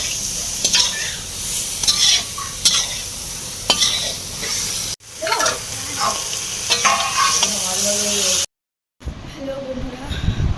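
Chicken kosha stirred and fried in a pan, with a steady sizzle and repeated scraping and clinking of a spoon against the metal, a brief silent break near the end, and people talking in the background throughout.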